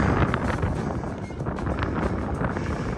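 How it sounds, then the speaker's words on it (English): Strong wind buffets the microphone on top of Primrose Hill in London, a loud continuous blustery rumble with rising and falling gusts and no speech. "It's quite windy, so hopefully you can actually hear me."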